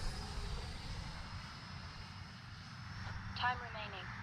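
Arrows RC Marlin 64mm electric ducted fan jet whining steadily at half throttle in flight, a thin high pitched hiss over outdoor wind noise, with a brief louder swell near the end.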